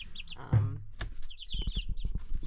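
Barred Rock chickens, including one or two roosters, cluck nearby in short soft bursts, with thin high chirps above and a low thump near the start.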